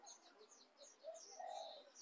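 Faint birds and chickens chirp and coo softly in the background of a pet area in Perlis, Malaysia, a scattered mix of short calls with no voices.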